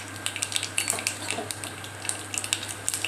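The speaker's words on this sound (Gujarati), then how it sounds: "તો મેં પહેલેથી તેલ ગરમ કરવા મૂકી દીધું છે, તો આપણે રેસીપી જોઈ લઈએ। જો પહેલેથી મેં તેલ ગરમ કરવા મૂકી દીધું છે। હવે આપણે આમાં 1 ચમચી રાઈ નાખીશું।" Mustard seeds crackle and pop in hot oil in a pan, sharp scattered spits over a low steady sizzle, close and fairly quiet.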